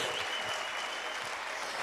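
A church congregation claps together in a brief, even burst of applause that fills the whole moment with no voices over it.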